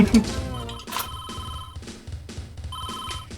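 A flip phone rings in the video game WarioWare, a repeated electronic telephone trill over busy game music and background sound.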